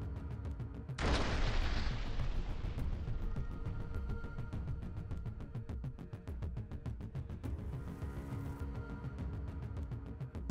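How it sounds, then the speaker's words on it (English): A single deep blast destroys a bunker near Seversk, Ukraine, followed by a lingering low rumble and distant crackling that slowly fades. "The bunker was destroyed in one powerful explosion."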